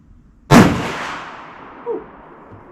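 A single loud, sharp report from a Berthier 07/15 rifle fired at a target rings out close, then decays into a long echoing tail, with a faint later thud.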